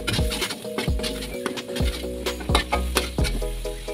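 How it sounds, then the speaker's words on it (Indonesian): Spice paste stir-fries in four to five tablespoons of cooking oil for bakso otak-otak mercon, loud sizzling broken by repeated scraping and clanking strokes of a utensil against the pan. "Kita tumis bumbunya sampai matang."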